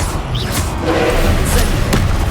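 A fire spell cast in the Hogwarts Legacy video game, a close whooshing roar of flame with soft thuds, steady and loud throughout with no voices.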